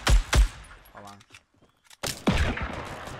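Gunfire from the Fortnite video game: two loud close shots at the start, then quieter scattered shots and more bursts near the end, mixed with a player talking.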